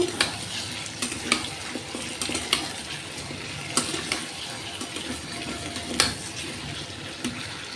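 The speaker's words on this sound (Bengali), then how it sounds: "তরকারিতে জল দিয়ে দিলাম ওটা এখন হতে থাক" Vegetable curry cooking in a wok on an induction cooktop just after water is added, a steady bubbling sizzle with repeated scrapes and knocks of a spoon stirring.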